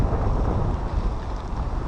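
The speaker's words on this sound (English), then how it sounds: "it's very windy today, at least in this spot" Strong wind buffets the microphone beside a canal, a loud low rumble with gusty swells and no voices.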